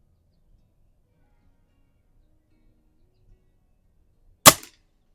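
A single sharp crack from a Norica Omnia ZRS spring-piston air rifle fired at an outdoor range, loud and close, following several seconds of near silence.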